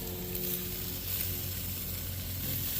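Vegetables for chicken kabobs sizzle in a hot pan with a steady, continuous frying hiss close by, unbroken for the whole stretch and with no talking.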